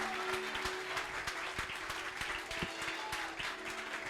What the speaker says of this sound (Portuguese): Aplauda ao Senhor com a maior salva de palmas que você puder